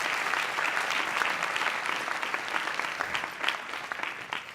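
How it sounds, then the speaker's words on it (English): Steady applause from an audience, dense clapping that holds at an even level throughout. "give him a round of applause"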